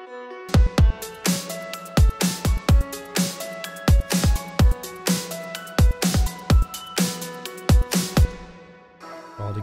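A piano layer run through an arpeggiator in an electronic music production plays a steady stream of bright, evenly spaced repeating notes with a low thump on each beat, loud and clear, then fades near the end.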